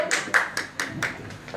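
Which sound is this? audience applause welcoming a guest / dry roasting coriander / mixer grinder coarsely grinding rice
audience applause welcoming a guest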